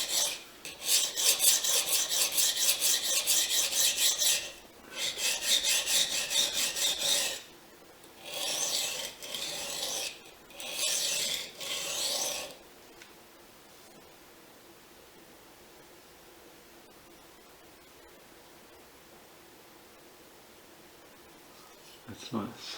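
A Fujimoto Honesuki boning knife is stroked across a Japanese waterstone in several bursts of steady, gritty rasping, close and loud, then the scraping stops and quiet room tone follows.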